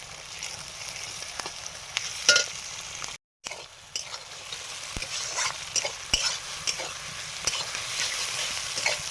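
Onion, ginger and garlic fry in hot oil in a pan while being stirred, giving a steady close sizzle broken by scraping stir strokes and a brief dropout, with no talking.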